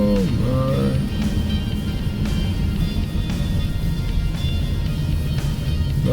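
A Hyundai Kona Electric coasting on regenerative braking with no brake applied, a steady low rumble of tyres and road noise inside the cabin, with a faint tone early on and no speech.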